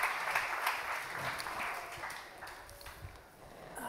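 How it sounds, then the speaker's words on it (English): A crowd applauds panel guests joining the stage at an e-commerce talk event, a dense burst of clapping that stays strong and eases slightly toward the end, with no talking. "you can all give them a massive applause"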